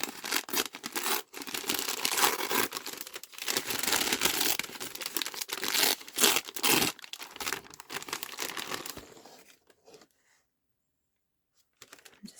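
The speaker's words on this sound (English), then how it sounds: "So if I just tear here," Paper being torn by hand for a junk journal, a long run of loud, ragged ripping with several sharp pauses, then it stops and near silence follows with a few small rustles at the end.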